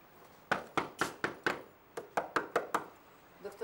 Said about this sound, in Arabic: خبط تاني